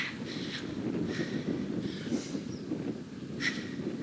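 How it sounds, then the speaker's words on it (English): Wind gusts buffet the microphone on a volcano hike, a steady low rumble with intermittent louder blasts, no speech. "Wow, it's windy."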